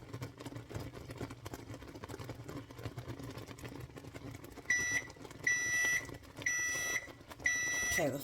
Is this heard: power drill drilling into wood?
no